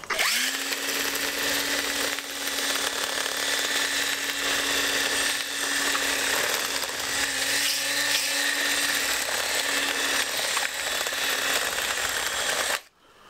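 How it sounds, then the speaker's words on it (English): A cordless drill spinning a split pin to sand round the inside of alloy wheel nuts gives a steady, loud whine that runs unbroken for about thirteen seconds, then cuts off abruptly at the end. "to sand round the inside of the wheel nuts"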